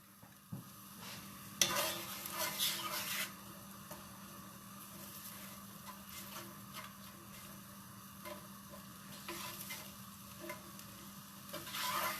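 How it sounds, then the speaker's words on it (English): Onion and bacon browning in a pan give a steady soft sizzle with occasional stirring scrapes and louder bursts, fairly quiet and close, with no talking. "I'm just going to brown off a little bit more onion and the bacon"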